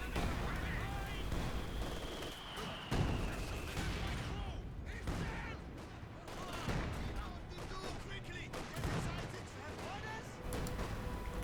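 Mortar blasts and explosions rumble through a Company of Heroes 2 battle involving a 102mm mortar, with dense, continuous gunfire and booming impacts layered throughout and a commentator's voice running underneath.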